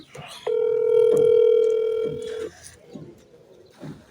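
A telephone ringback tone sounds through a phone on speaker, one long steady ring lasting about two seconds, followed by quieter room noise and faint voices.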